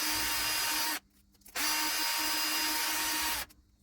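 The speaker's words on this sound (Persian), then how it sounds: "میام این قسمت رو سنباده میزنم" A power sander works on a vacuum cleaner part to fit a ball bearing, running in a loud steady whine that cuts out briefly twice, starting again after the first break, close up with no talk.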